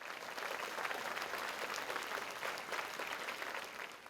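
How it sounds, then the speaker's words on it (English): An audience at a school district athletics hall of fame ceremony applauding: a continuous, even round of many hands clapping, heard from some distance at moderate level for several seconds without pause. "I think that deserves its own round of applause."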